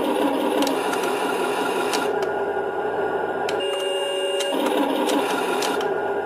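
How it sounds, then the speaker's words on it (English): Sound module of a Henglong 1/16 RC German Panzer III toy tank playing an Abrams tank engine effect: a continuous buzzy, mechanical whirring with a few sharp clicks and brief tones, fairly loud and close. "So if you want to sound like an Abrams, I guess you could do that."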